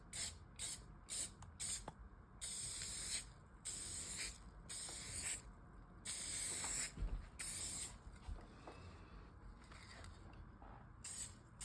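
Repeated bursts of hissing spray from a paint sprayer painting a door, each lasting a second or so, start and stop in an irregular rhythm against a quiet background.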